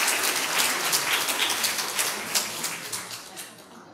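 Church graduation ceremony audience clapping for a student receiving a certificate: a dense, fairly soft patter of applause from a small crowd, steady and then tapering off toward the end.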